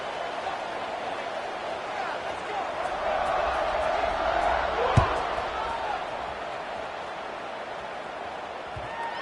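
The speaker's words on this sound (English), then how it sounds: "this crowd is feeling themselves after that last drive" A college football stadium crowd at a La Tech v UTSA game roars in a dense, sustained wash of cheering at kickoff, with a single sharp thump midway through.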